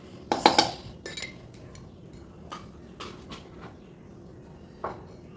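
A metal spoon scooping coriander powder for sambar, heard as a cluster of bright clinks and scrapes against a container near the start, then a few softer taps, close and fairly quiet.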